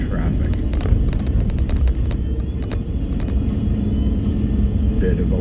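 A four-wheel drive vehicle rolls along a road, its engine and tyre rumble forming a steady, loud low drone throughout, with wind buffeting and a few faint clicks on top.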